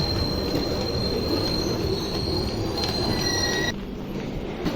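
The Chennai Express moves through Bengaluru Cantonment station with high, sustained wheel squeal over a steady rolling rumble of the coaches, the squealing cutting off near the end as the rumble carries on.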